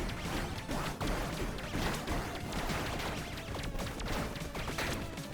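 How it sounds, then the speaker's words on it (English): Star Cannon shots in Tiny Rogues fire as a dense, rapid barrage of crashing impacts and bursts, loud and continuous and piling over one another throughout. "let's check out the Star Cannon shots"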